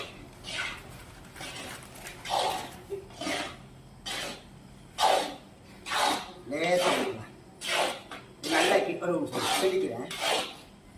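A ladle or spatula scrapes and stirs a thick herbal lehyam paste with ghee in a pan, making repeated rasping strokes at a steady rhythm, close by, with someone talking in between.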